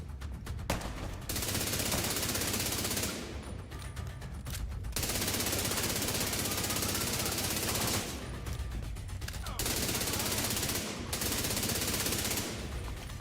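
Sustained automatic gunfire from a recoil-free gun in the video game Dune Awakening, long dense bursts broken by a few brief pauses, loud and close.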